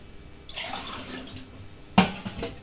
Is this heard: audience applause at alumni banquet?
no